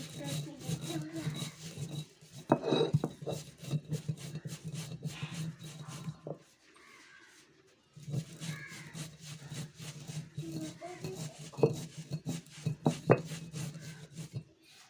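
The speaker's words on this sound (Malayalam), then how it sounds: "കടുകും ഉലുവയും കൂടെ ഒന്നിച്ചിട്ട് ചതയ്ക്കുകയാണ്" Mustard seeds and fenugreek are crushed on a stone grinder with repeated rough rubbing and scraping strokes, pausing briefly midway, while someone talks over the work.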